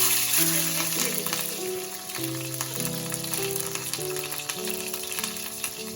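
Nigella seeds and green chilies crackle and sizzle in hot oil in a pan, a steady close-up frying hiss with scattered pops throughout, heard over a soft sustained musical backdrop.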